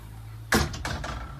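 Sliding barn doors inside a DRV Mobile Suite 41RKSB4 RV give a sharp knock followed by a short rolling slide and a second softer bump, close and fairly quiet.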